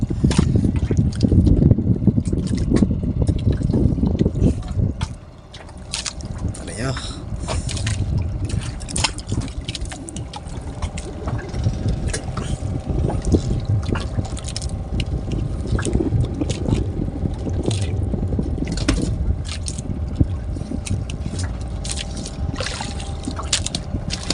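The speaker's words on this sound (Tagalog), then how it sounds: "bangka na dumadaan" A boat motor drones and churns water close by, loud at first, then easing into a steady low rumble with splashing.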